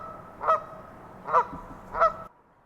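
Three loud goose honks spaced about a second apart in a marsh wetland, each a sharp nasal call over a quiet low background, then silence.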